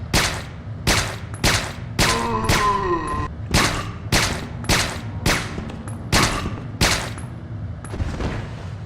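In the video game Resident Evil: Dead Aim, a silenced handgun fires about ten evenly spaced muffled shots, each a sharp thump with a short tail, and one shot is overlapped by a brief groaning sound.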